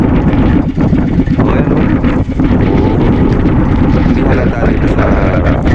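Strong wind roars across the microphone on a small fishing boat at sea, a loud, constant rushing that nearly buries someone talking.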